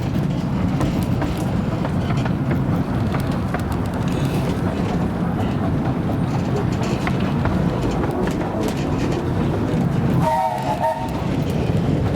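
Miniature steam train on the Romney Hythe and Dymchurch Railway rolling with a continuous loud rumble and clatter, its horn sounding a short two-tone blast near the end.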